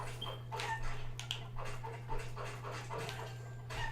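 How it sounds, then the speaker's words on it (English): A dog barks loudly outside near a window, a series of repeated sharp barks over a steady low electrical hum, with no talk. "Dog's barking really loud right near my window."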